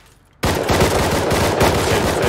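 Loud, dense automatic gunfire in the survival video game Rust, played on console, bursting in abruptly after a quiet moment and continuing as a rapid, steady stream of close shots.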